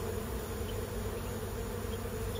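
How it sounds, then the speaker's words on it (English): Honey bees buzz steadily inside a condemned house during a live removal, a constant close swarm drone with no voices over it. "Bees are being fairly docile."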